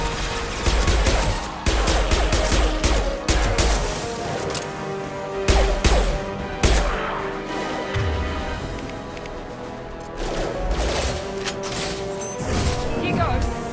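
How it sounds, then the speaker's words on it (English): In the sci-fi shooter Mass Effect 2, an impact shot fires amid combat: heavy, booming blasts and crashes land in rapid clusters over a dense, rumbling game soundtrack. Character voices are partly heard in the mix. "Firing an impact shot!"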